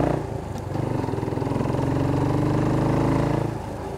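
Steady motorcycle engine drone at close range on a rainy, windy day in Krabi, Thailand, rising slightly in intensity then easing, with a rough low rumble and blustery wind noise over it; no voices.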